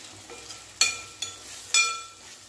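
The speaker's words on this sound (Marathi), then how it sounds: "आता चांगलं व्यवस्थित भाज्या आपण तेलामध्ये भाजून घेऊया।" Potato, drumstick and pumpkin pieces frying in oil for sambar, a soft sizzle punctuated by three quick stirring clatters of a spoon against the pan.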